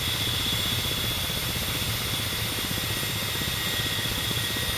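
Ka-50 attack helicopter in flight in the DCS simulator, heard as a steady, unbroken engine and rotor drone at constant loudness with no speech.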